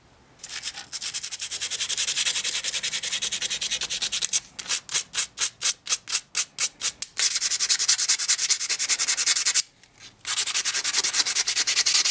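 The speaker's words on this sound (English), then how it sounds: "I am going to do a little bit of hand sanding just to kind of flatten everything out" Continuous scratchy hand sanding of a Damascus Bowie knife, first in long steady passes, then a run of quick rhythmic back-and-forth strokes, a brief pause, and steady rubbing again.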